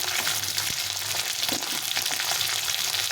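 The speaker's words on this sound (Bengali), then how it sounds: "উচ্ছেটা একটু ভালো করে ভেজে নিতে হবে" Long-cut bitter gourd fries in a pan with a steady, fairly quiet sizzle and crackle, with a few faint scrapes of stirring and no voices.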